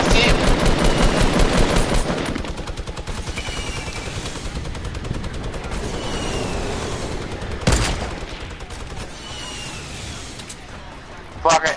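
Rapid bursts of automatic gunfire and explosions fill a battle royale video game match, dense at first and then thinning into scattered shots, with players talking over the action throughout.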